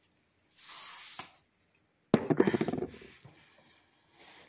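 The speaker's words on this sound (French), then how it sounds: "Je vais mettre un petit peu de spray Sanitol" A Sanitol spray bottle gives a short close hiss, followed by a rattling, squishing burst and a faint final puff.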